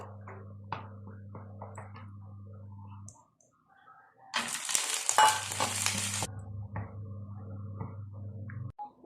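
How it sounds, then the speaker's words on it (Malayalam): Cashews and raisins frying in ghee for carrot laddoos, with close stirring clicks and a soft bubbling sizzle, then a brief pause followed by a louder burst of hissing and scraping that settles back into steady frying. "അതിലേക്ക് കുറച്ച് അണ്ടിപ്പരിപ്പും മുന്തിരിങ്ങായും വറുത്തു കോരാം."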